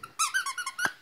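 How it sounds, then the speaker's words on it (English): A squeaky dog toy squeaks in a quick burst of five or six sharp, close squeals as an Australian shepherd bites down on it, with a short snort at the end. "I was told dogs really like squeaking toys"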